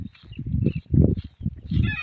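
Short bursts of clucking from a fighting chicken in the mountains, fairly close, in uneven pulses over about two seconds with a few higher squawky notes near the end.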